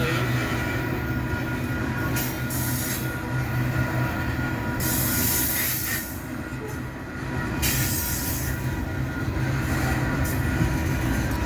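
A long freight train rolls past nearby in Nebraska, a constant heavy rumble of wagons with intermittent high wheel squeals and rail clatter.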